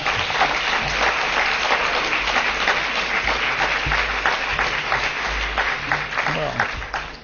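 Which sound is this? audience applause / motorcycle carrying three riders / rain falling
audience applause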